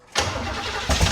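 A rat rod's engine cranks on the starter in a short, loud, close burst, churning steadily for about a second before a second surge of effort.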